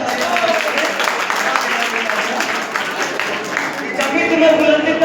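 A school annual-function audience claps louder on request, a dense steady patter of many hands filling the hall, with the crowd's applause swelling again near the end.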